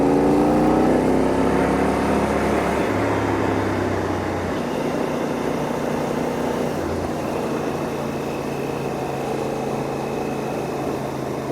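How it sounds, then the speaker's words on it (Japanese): Honda Hawk 11 motorcycle engine climbing a mountain pass uphill in third gear, a loud close steady drone with harmonic tones that shift in pitch as revs change, wind noise throughout. "少しエンジンの音をお聞かせしたいと思います"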